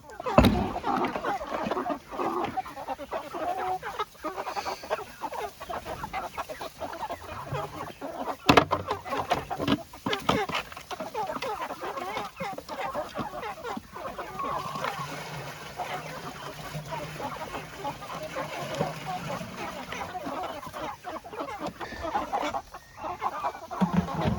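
Chickens cluck and squawk steadily nearby amid rustling and clattering, with occasional human voices mixed in throughout.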